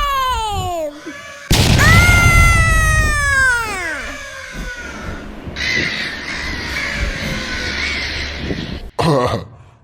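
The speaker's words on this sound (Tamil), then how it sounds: "ஆஹா, காக்கா ஒரு முழு படையையே கூட்டு வந்துருச்சாட்டுக்கே." Cartoon crows caw loudly and repeatedly, several harsh, drawn-out calls bending downward in pitch, crowding close together before a brief pause and a final squawk.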